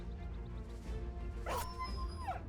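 War dog in the medieval tactics game Battle Brothers, a sharp yelp that slides into a thin whimper amid battle clatter, brief and fairly close.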